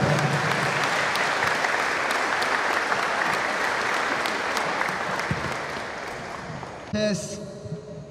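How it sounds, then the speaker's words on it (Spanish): A crowd at a book presentation in La Maná breaks into sustained applause for the author, a dense, steady wash of clapping that fades toward the end before a voice begins speaking. "Aquí le recibimos con un fortísimo aplauso."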